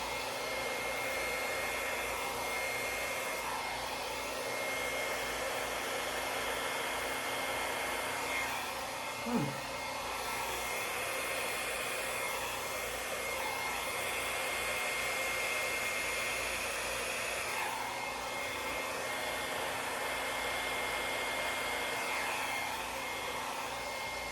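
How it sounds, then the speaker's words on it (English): A hair dryer blows steadily and continuously on cake icing, a close, even rushing whoosh with one brief soft knock partway through. "I never put my dryer on full on, just right off the sides."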